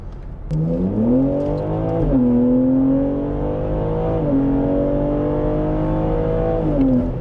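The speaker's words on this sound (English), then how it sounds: "it's got the most amazing exhaust sound that I've ever heard" A BMW G80 M3 with the S58 turbocharged inline-six sends a loud, close exhaust note through several rev swells and dips, holding a steady drone between them with no talking.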